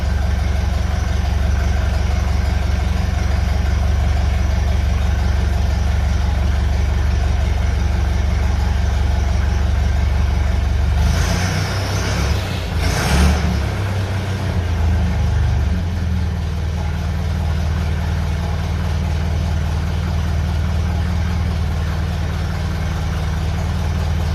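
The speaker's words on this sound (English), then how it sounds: "It's going up and down on the revs a bit." A 1950s car engine, fitted with a 1950s Lucas condenser, idles with a low, steady rumble for the whole stretch, the revs briefly rising and dipping midway before settling back.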